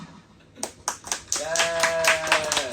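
A few people clapping hands during an Instagram live chat, starting as scattered separate claps and then building into steadier close clapping, with a voice underneath.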